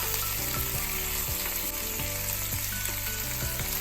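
Ginger, garlic and onion sizzle steadily in a hot pan for a brown stew, a dense continuous frying hiss with occasional soft knocks of stirring, close and unbroken, no voices.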